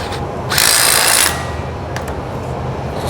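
An impact wrench tightens a bolt on a Nissan 350z steering knuckle in a fabrication shop: one loud, close, rattling burst of under a second, then steady background hum.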